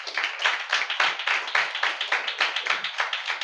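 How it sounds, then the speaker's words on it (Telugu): A church congregation at a Holy Communion service claps in a fast, steady unison rhythm, sharp and close, with no talk over it. "ఇంకోసారి చప్పట్లు కొట్టు ప్రభు"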